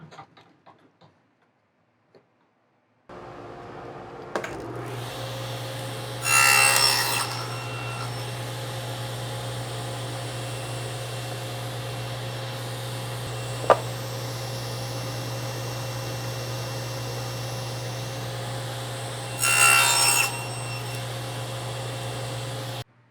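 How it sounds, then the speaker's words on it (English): A table saw with a miter sled starts up, settling into a steady motor hum, and twice bites through wood to cut a mitered face, each cut a brief louder whine before the blade idles down. "So I put my miter sled back in the table saw"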